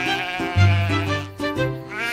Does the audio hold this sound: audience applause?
no